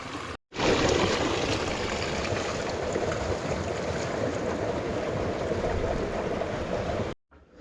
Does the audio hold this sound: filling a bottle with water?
yes